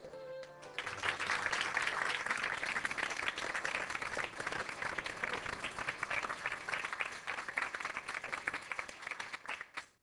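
An audience breaks into sustained applause welcoming a speaker, dense steady clapping from a crowd in a hall that holds for nearly ten seconds before stopping abruptly.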